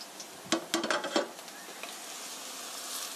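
Sliced shiitake mushrooms dropped into a hot pan with a few quick scraping stirs, then a soft steady sizzle of frying continues, fairly faint and close.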